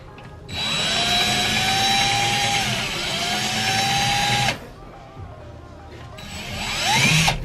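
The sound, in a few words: drilling holes for a rollbar mounting plate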